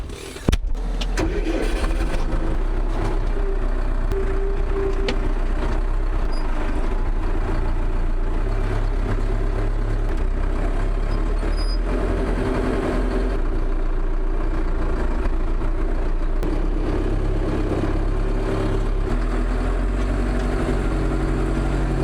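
A tractor engine cranks and catches, then settles into a loud, steady low rumble that runs close by for about twenty seconds at an off-grid cabin site where trees are being felled and hauled.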